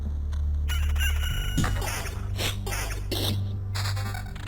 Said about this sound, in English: That chicken sound effect, I swear.